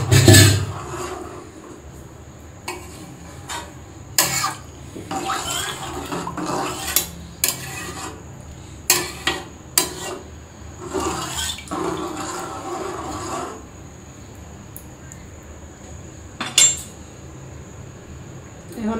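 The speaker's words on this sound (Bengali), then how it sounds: "এই যে হালিমটা নাড়াচাড়া করতেছি, এদিক দিয়ে বারবার নাড়াচাড়া করতেই হয়" Haleem is stirred in a cooking pot with a spoon, making repeated scraping and clinking against the metal in irregular bursts, fairly close, with some quiet talking.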